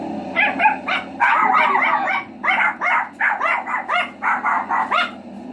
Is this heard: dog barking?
yes